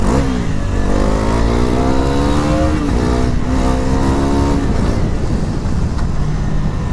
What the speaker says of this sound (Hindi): ये एक्चुअली थोड़ा सा ना ज़्यादा RPM पे जाने पे पावर दे रही है।